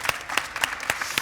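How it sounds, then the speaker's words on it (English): A brief, faint burst of applause from a conference audience for a startup founders' panel, with a few distinct claps standing out over a thin patter of hands. "Should we give them all a round of applause for their intros?"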